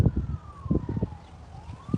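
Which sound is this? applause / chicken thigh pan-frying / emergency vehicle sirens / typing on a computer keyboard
emergency vehicle sirens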